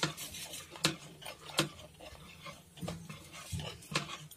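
A spoon stirs urad dal with curry leaves, chilies and hing in a cooking pot, giving faint, irregular metallic clinks and scrapes against the pot at close range.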